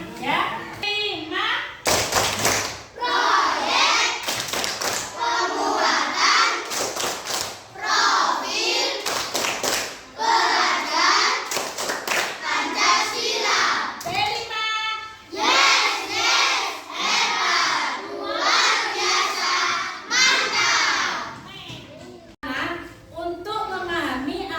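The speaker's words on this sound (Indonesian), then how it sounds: "kita akan tepuk P5 dulu anak-anak biar semangat ya" A class of children performs the P5 clapping chant, shouting in unison between bursts of sharp, loud group claps. The rhythmic pattern repeats over a long stretch, with a lively, crowded classroom feel.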